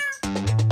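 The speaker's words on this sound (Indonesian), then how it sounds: "kucing piaraannya yang suka rengginang" A pet cat meows loudly and close, one drawn-out rising meow following a brief softer tonal sound.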